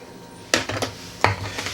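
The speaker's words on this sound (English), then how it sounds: "we're gonna use the potato smasher here. And just smash it, get it all in there." Sweet potatoes with a whole chunk of butter and maple syrup are mashed in a pot with a potato smasher: two distinct soft thumps, each followed by a few quieter squishing knocks, fairly close.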